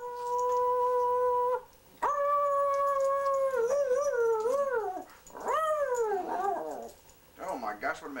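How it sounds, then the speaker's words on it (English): A dog at the Apopka Zoo lets out long, sustained howling tones that rise and waver, breaking into shorter yips and whimpering cries toward the end, loud and close with a person coaxing it in the background. "This is Boo the dog from the Apopka Zoo"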